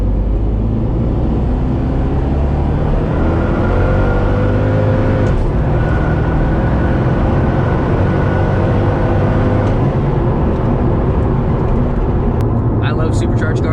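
A fully built 427 twin-turbo Corvette engine revs hard and loud for the whole stretch, its pitch climbing and falling in sweeps during a quick test run, with the roar dominating everything.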